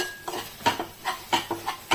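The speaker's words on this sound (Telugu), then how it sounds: "ఇప్పుడు గోంగూర ఒకసారి కలబెట్టేద్దాం." A utensil stirs gongura leaves in a cooking pan, making a steady run of rhythmic scrapes and soft metallic clinks, close by and moderately loud, about six strokes in two seconds.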